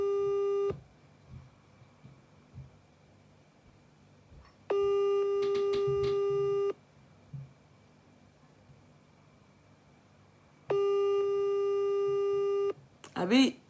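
A telephone line gives a busy signal after a number is dialled: three steady, flat tone bursts of about two seconds each, separated by longer quiet gaps over faint background hiss.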